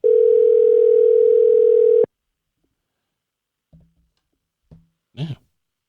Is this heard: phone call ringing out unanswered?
yes